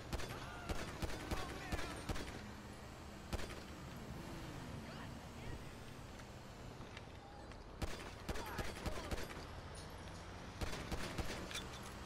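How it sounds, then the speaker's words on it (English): Gunfire in Grand Theft Auto, a string of sharp shots in bursts over a steady windy, engine-like background, with louder clusters near the start, middle and end. "Now I shoot. Because I can."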